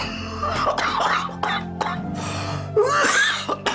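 Chronic cough from an ailing person in a village drama scene, several rough coughs and throat-clearing sounds close by, mixed with strained voiced breaths and a background hum.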